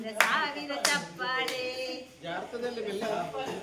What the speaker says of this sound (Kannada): ಶೀ ಸಾಧನೆ ತೋರಿದ ನಿಮಗೆಲ್ಲ ಸಾವಿರ ಸಾವಿರ ಚಪ್ಪಾಳೆ